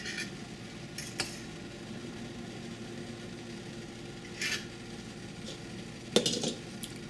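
Cooked ingredients are cut in a kitchen for a pork in green sauce dish. A few sparse, sharp knife taps and clinks sound over a faint, steady background hum.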